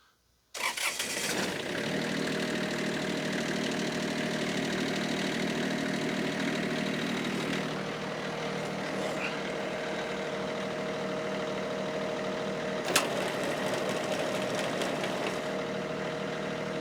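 A Kioti tractor engine cranks and catches within a second, then settles into a steady, loud idle that runs unbroken to the end, with one brief sharp click partway through.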